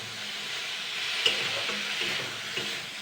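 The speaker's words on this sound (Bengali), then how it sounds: "তো এবার আমি এটাকে ভালো করে আলু টমেটোটাকে আগে ভালো করে কষিয়ে নেব।" Potatoes and tomatoes sizzle softly in a pan as they are sautéed with turmeric, a steady frying hiss broken by a couple of sharp clinks of a spatula.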